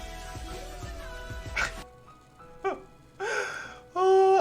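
A person imitates a wolf howling, making several rising and falling vocal howls and yips of growing loudness. The last howl is the longest and strongest, and there is a stretch of talk at the start.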